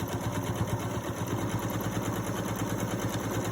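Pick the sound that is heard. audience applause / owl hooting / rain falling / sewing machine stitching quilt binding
sewing machine stitching quilt binding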